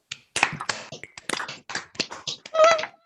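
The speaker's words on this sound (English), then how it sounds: "Please, let's unmute yourselves and applaud Judge Clark." Scattered applause and a few finger snaps from participants unmuted on a video call at a Kate Stoneman Day event, uneven, thin claps spread over about three seconds, growing louder near the end.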